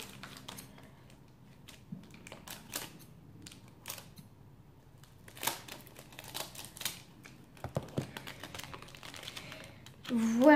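A package of multicolored post-it notes being opened: faint crinkling, tapping and plastic rustling in short scattered bursts, quiet and close, with a brief voice near the end.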